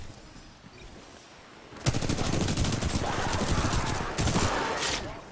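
Weapons fire in the shooter Titanfall 2 in a sustained rapid burst that starts suddenly after a quiet stretch of ambience, with a brief gap before the firing resumes, loud and continuous.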